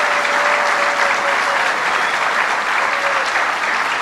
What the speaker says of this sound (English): let's give Eloise Cobell a round of applause because she stood up for the right thing for America